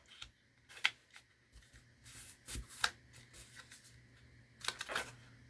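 A glued paper hinge with a quarter-inch gusset is folded back on a handmade craft kit, giving a few brief, close papery crackles and taps against quiet room tone.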